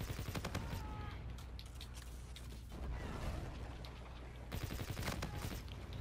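Enemy bombardment hits during a Call of Duty: Infinite Warfare multiplayer match, with bursts of distant gunfire and sharp repeated shots kept fairly quiet in the game mix.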